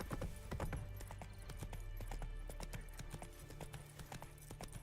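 In The Witcher 3, the horse Roach trots with steady, fairly close hoof clip-clops that keep an even rhythm, set over a soft background hum.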